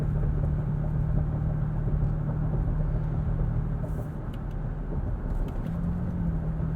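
A 2020 Toyota Tacoma TRD Offroad with a V6 and six-speed automatic cruises along, a steady low road rumble and engine drone heard from inside the cab, with no talk.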